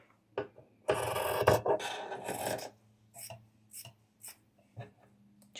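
Scissors trimming a fabric seam allowance, a run of close raspy cutting and rubbing strokes followed by several short, separate snips, fairly quiet.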